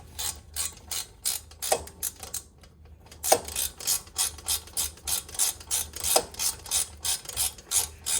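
Hand ratchet clicking steadily as it tightens the bolts on a BMW E90-series front brake caliper during a disc and pad replacement, a close, repeated rhythm of short strokes with a brief pause partway through.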